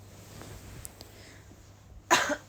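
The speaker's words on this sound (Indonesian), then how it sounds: "Maaf ya kok tiba-tiba aku batuk." A young woman on a live radio stream lets out a single sudden, close cough near the end after a few seconds of faint near-silence.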